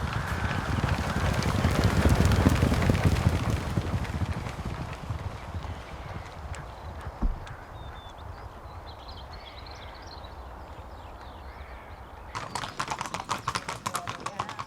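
Racehorses' hooves clip-clopping at a steady pace in a training yard, a continuous rhythmic patter of several horses moving together, louder at first and then settling to a softer, even beat, with a brief sharper clatter near the end.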